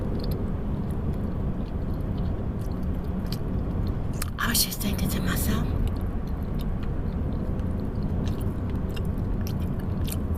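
Gum being chewed right at the mic, with moist smacking and clicking bites repeating throughout, heard under soft close whispered talk, with a brief louder crackle near the middle.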